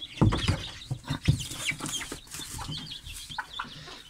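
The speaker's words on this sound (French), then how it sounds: "Le dindon" Poultry calls from a backyard flock of young birds and adults, a turkey among them, with several close, loud clucks and gobble-like bursts spread across a few seconds, busy and irregular.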